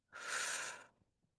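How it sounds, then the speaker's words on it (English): A single breath during seated qigong practice is released through pursed lips as a soft, airy hiss. It lasts just under a second, is close and quiet, and fades into silence. "Try inhaling and whistling out."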